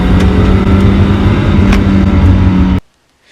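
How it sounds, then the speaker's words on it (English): Mazda Miata engine with worn motor mounts, revving loudly up close in a steady harsh roar for nearly three seconds before cutting off abruptly into near silence. "the engine kind of moves over one way, and then as soon as I let off, it just kind of shudders back"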